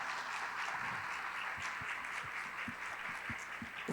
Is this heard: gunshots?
no